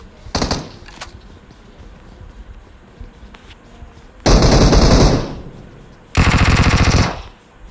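Machine gun fire from the mobile battle royale game PUBG Mobile, with a short burst early on and then two long, loud, sustained automatic volleys separated by a brief pause.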